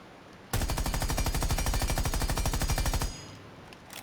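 Rapid automatic gunfire from a weapon in the video game Rainbow Six Siege, a loud continuous burst of about two and a half seconds with evenly spaced shots, then a quiet tail.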